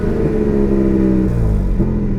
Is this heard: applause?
no